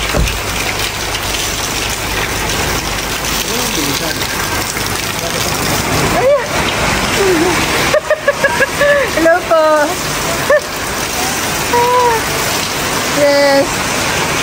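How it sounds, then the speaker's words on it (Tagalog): Heavy rain pours down in a constant loud roar throughout. People talk briefly over the downpour. "Grabe, lakas ang ulan."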